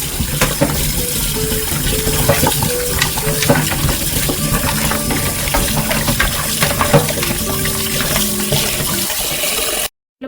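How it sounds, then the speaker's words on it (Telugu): Water running and splashing close by as mutton trotters are rinsed with turmeric and handled, a busy wet churn that cuts off abruptly at the end. "ఇలా పసుపు అంతా వేసుకొని నేనైతే బాగా వాష్ చేస్తాను దీన్ని"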